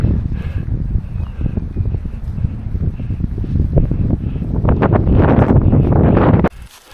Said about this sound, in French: Il y aurait un peu moins de vent, ce serait parfait